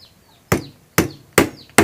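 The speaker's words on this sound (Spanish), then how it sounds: "Ahora sí vamos a fijar con el martillo ya nuestros clavos" Four sharp hammer blows strike a nail into wood at a steady pace while building a small wooden money box, each crack loud and close, with short quiet gaps between.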